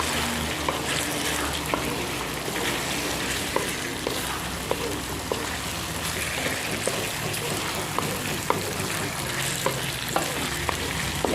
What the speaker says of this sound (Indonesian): Sekarang kita masukkan kacang panjangnya. Kita aduk.